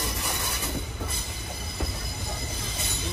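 Sabari Express passenger train rolling along, heard from inside a sleeper coach as a steady loud rumble of wheels on track with occasional squeals and clacks throughout.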